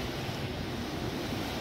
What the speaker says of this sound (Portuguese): às vezes dá umas espirradas de água